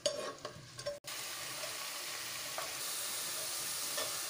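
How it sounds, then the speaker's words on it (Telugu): Onion pieces frying in oil until brown for a chicken fry, with a few soft clatters at the start, then a steady, fairly quiet hiss of sizzling oil that carries on alone. "ఇప్పుడు ఇందులో ఉల్లిపాయ ముక్కలు వేసుకొని బ్రౌన్ కలర్ వచ్చేంత వరకు బాగా వేపుకోవాలి."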